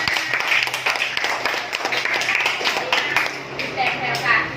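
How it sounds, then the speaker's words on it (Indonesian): Applause for a winning student group in a classroom, a dense patter of many hands clapping close by for several seconds, with voices murmuring underneath. "Kasih tepuk tangan untuk kelompok 5"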